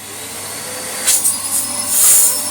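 Samsung CycloneForce 2100W vacuum cleaner, refurbished, running with a steady loud whine and airflow hiss, with a few brief sharper surges as the suction changes.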